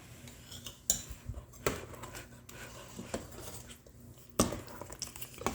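A spoon mashing vegetarian kichadi in a pot, with soft squelching and several sharp metallic clanks of the spoon against the pot, fairly quiet and without talk.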